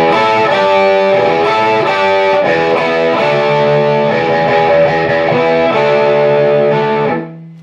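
Distorted electric guitar riff, loud and steady with chorus-like effects, playing a repeated rhythmic figure alone for about seven seconds before ringing out and cutting off.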